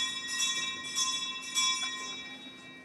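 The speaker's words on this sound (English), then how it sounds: "Ring the alarm bell." An alarm bell rings during a live stage performance of Macbeth, three sustained metallic strikes whose tones hang and fade into one another, with no speech.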